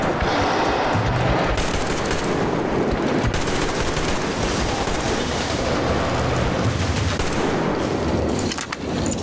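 Rapid semi-automatic gunfire rattles almost nonstop in a Metro Exodus firefight, loud and close, with dense overlapping shots and echo filling the whole stretch.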